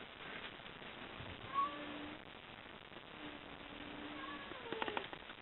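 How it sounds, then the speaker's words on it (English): Two cats yowl at each other through a window, drawn-out wavering cries trading back and forth at moderate distance, fairly faint against a quiet room. "they are seriously yowling at each other through the window."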